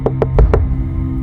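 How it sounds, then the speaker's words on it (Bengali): Four hard, evenly spaced bangs strike a window in quick succession, loud and close, followed by a brief quiet tail. "কেউ যেন খুব জোরে জোরে জানালা ধাক্কাচ্ছে"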